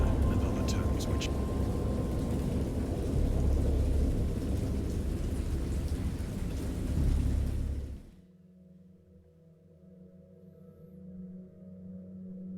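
A thunderstorm with steady heavy rain and rumbling thunder fills the first eight seconds. The storm then cuts off abruptly, leaving a quiet, low tonal background.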